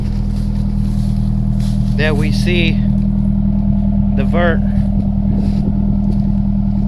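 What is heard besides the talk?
Nissan S13 engine running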